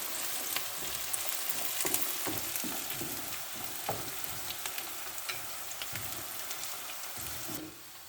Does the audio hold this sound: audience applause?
no